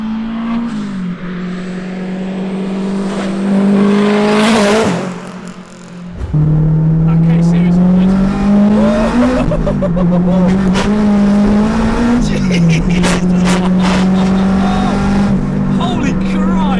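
A turbocharged Honda Civic Type R EP3 making 420 bhp accelerates hard on the road, its loud engine climbing steadily through the gears with brief dips at each shift, heard close from inside the car.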